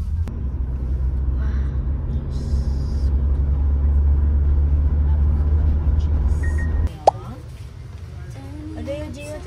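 Road traffic rumbles past with a steady low engine drone from cars and buses along a crowded street of stores, cutting off abruptly, followed by a sharp knock and voices talking.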